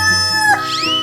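A chicken call from a 3D animal video game, a single short crow-like cluck rising and falling over about a second, close and clear with no talking.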